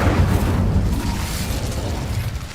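Incendio fire spell cast in Hogwarts Legacy, a loud, close whooshing burst of flame with a deep rumbling roar that slowly fades over a couple of seconds.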